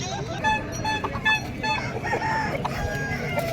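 Chickens at the Taltola weekly haat in Purulia cluck and crow close by in short repeated bursts, while people talk among them.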